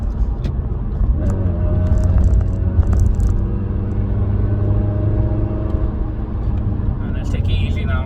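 A 2014 Suzuki Swift Sport with a Remus exhaust pulls hard on the road, its engine droning loud and steady from inside the cabin with a rising rumbling tone and a low-frequency boom throughout.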